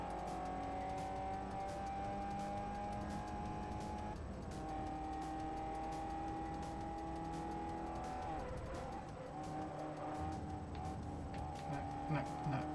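Race cars in Forza Motorsport 4, including a Mazda MX-5, a Ford Fiesta and a Fiat Punto, drone steadily at high revs, with engine notes shifting pitch as they jostle for position.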